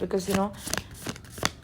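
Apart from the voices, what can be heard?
tarot cards being shuffled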